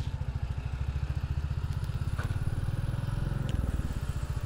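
A touring motorbike's engine chugs steadily and close, a dense low pulsing rhythm running throughout with faint rattles and clatter riding on top, no voices.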